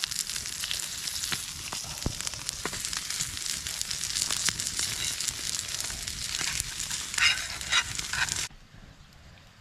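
Steak sizzling over a wood fire at a winter bushcraft shelter, a steady hissing crackle with scattered pops and snaps, close and moderately loud, cutting off abruptly near the end.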